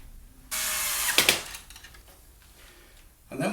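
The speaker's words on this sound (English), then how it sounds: "Now we need to put a couple of the screws back in just to secure them" A power screwdriver drives screws into a Maco window lock centre gearbox, one short buzzing burst followed by clicks and rattles, then another burst starting at the end.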